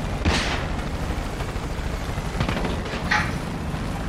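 Rocket launcher fire in Far Cry 5 during an air raid mission: a couple of sharp explosive bursts, one near the start and another around three seconds in, over a steady rumbling game background.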